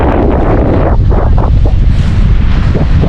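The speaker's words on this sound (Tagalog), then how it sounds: "May lakas ang hangin eh." Strong wind roars steadily and loudly around a hut by the water, buffeting the microphone in a constant close rumble with no voices.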